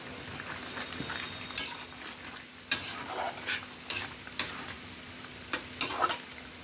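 Banana kofta drops into a boiling curry gravy with potatoes: a soft bubbling simmer and quiet sizzle broken by several sharp spoon-and-pot clinks and splashes, close by with no talking.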